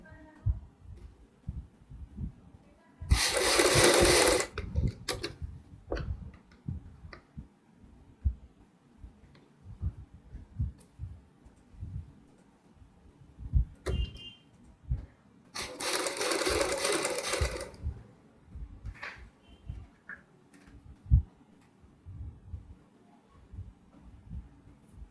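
Two bursts of a sewing machine stitching piping around a kurti neckline, each a few seconds long and close by, with fabric handling and light clicks between them.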